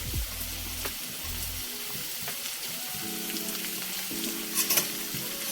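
Chopped onions fry steadily in a pan of oil for a gongura curry, a constant close sizzle with a soft low rumble and faint clinks near the end.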